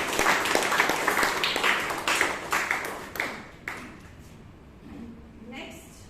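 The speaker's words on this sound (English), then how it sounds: "Can we have a big round of applause?" A room of people at a Toastmasters meeting applauds, a brisk burst of many hands clapping that thins into a few scattered claps and fades out, with a soft voice near the end.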